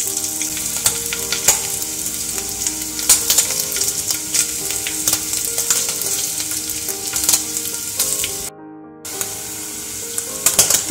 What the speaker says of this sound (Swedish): Jag vill steka det bara 2 minuter.